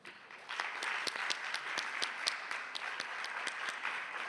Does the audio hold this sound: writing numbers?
no